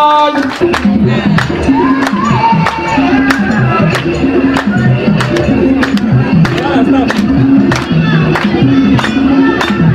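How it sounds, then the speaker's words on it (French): A crowd claps and cheers at an outdoor inauguration of a drinking-water network in Mangagoulack, steady dense applause with sharp hand claps and voices mixed throughout, loud and continuous. "Applaudissez-la."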